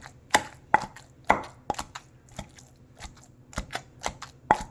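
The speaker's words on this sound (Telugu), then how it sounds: "ఇలా కొంచెం కచ్చా పచ్చా అయ్యే వరకే దంచుకోవాలి బాగా నలగకూడదు ఆనియన్" Fried onion pounded by hand for a mint (pudina) chutney, kept coarse rather than crushed smooth: sharp, irregular thuds in a quick uneven rhythm, close and distinct, with no voices.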